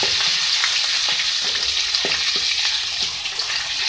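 Ginger garlic paste hisses and sizzles as it fries with golden onions for an eggplant and potato curry, a loud, steady crackle broken by a few soft stirring scrapes.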